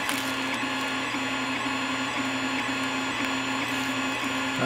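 A Creality Ender 3 3D printer runs with a steady whirring fan hum and rhythmic stepper-motor whines that repeat in short pulses, loud and close throughout with no talk.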